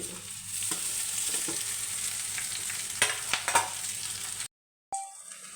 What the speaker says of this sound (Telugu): క్యాప్సికం వేగిన తర్వాత అన్నాన్ని ఇందులో వేసి కలుపుకోండి